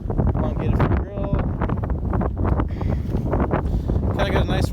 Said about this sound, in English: you'll be able to hear the wind here